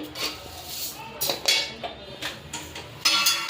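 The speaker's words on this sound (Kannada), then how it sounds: "ನೆಕ್ಸ್ಟ್ ಧನಿಯಾ ಕಾಳು ಹುರ್ಕೊತಾ ಇದ್ದೀನಿ." Coriander seeds are dry roasted in a pan, with scraping stirs and metallic clinks of utensil against pan at an uneven rhythm, close and moderately loud.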